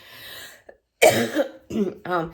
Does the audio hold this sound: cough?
yes